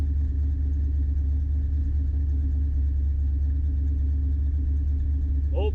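A 1976 Ford Ranchero engine idling at just over 1000 RPM, a close, steady low rumble with an even droning hum that holds constant without pause.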